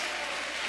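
A brief burst of applause from a church congregation, steady dense clapping from many hands, fairly quiet and distant, with no speech over it.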